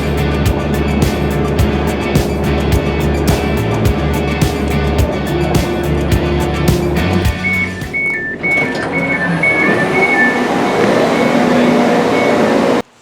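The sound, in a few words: riding on board a Pacer train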